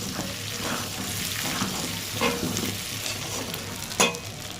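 Pointed gourd (potol) frying in a pan, a steady close sizzle with stirring scrapes and a sharp utensil knock near the end.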